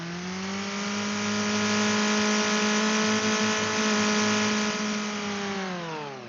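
A car engine revs hard and holds high during a MAF sensor test, a loud, steady, buzzy drone with strong harmonics that swells in and eases slightly at the end, no voices.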